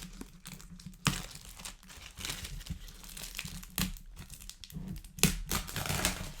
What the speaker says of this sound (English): I'll take the plastic off this way.